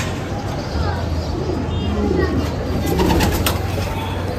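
Kamagar pigeons, including a black pair, give soft low cooing among ambient noise, with a steady low hum throughout.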